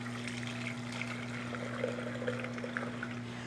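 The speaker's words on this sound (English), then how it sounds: "And now just strain the custard into a pouring cup." Vanilla custard strained and poured into a pouring cup, a soft, steady liquid trickle running under a constant low electrical hum with no talking.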